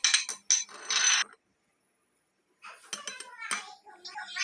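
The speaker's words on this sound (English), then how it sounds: "My mom takes a bowl and mixes up all the spices." Dry spices mixed in a bowl for a fish fry, giving clinking, scraping bursts nearby that stop for a moment and then resume more unevenly.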